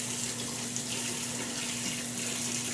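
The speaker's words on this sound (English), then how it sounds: "I'm just washing my spatula." Tap water runs steadily into a kitchen sink as a spatula is rinsed underneath, a constant close hiss and splash with no pauses and no one speaking.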